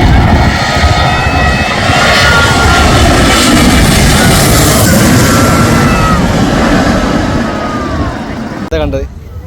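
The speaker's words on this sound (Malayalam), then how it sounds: "ആ ഫ്ലൈറ്റ് ഇപ്പം ഇങ്ങനെ കറങ്ങി വരും." An airplane flying low near the Calicut airport runway makes a loud, continuous engine roar that fills the scene, with voices faintly underneath and a brief sharp noise at the end.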